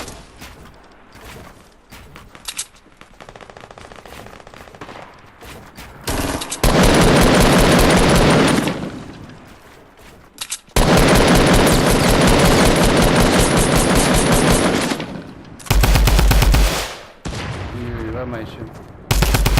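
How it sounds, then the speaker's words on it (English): Loud, close gunfire in Fortnite Battle Royale comes in long sustained bursts of rapid automatic shots, broken by short gaps, with quieter stretches and some game noise between them. "Why's the guy shooting at me, bro?"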